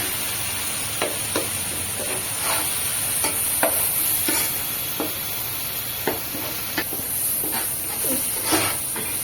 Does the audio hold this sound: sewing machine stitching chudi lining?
no